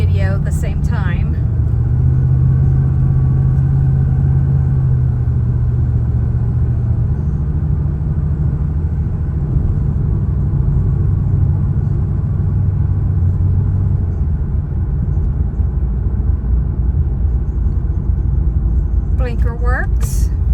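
A camper's engine drones while driving, with a loud, steady low rumble of road and motor noise that stays even throughout.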